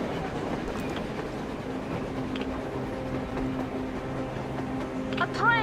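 A train runs on the surface in the video game Metro Exodus, a steady rumbling clatter of wheels on rails held at moderate distance throughout, with a brief squeal near the end.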